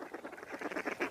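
Ducks quack in a quick, busy run of nasal calls, with larger geese-like birds close by, a fairly faint outdoor chorus with no talking.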